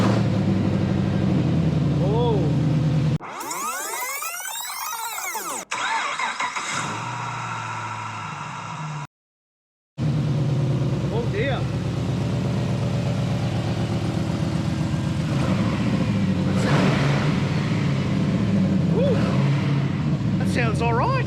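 A Holden Commodore VE SS Ute fitted with headers cranks and fires up close by, then settles into a loud, steady, throaty idle with brief revs after a short dropout, and voices can be heard around it.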